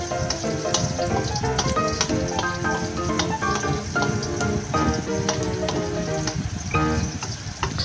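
Garlic and onion sauté in oil left from frying dried fish, giving a continuous close crackling sizzle with occasional stirring, under background music.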